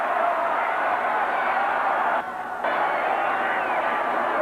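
Stadium crowd at an Arizona State football game against Nebraska, a huge steady roar of many voices with a brief dip midway, heard under talk.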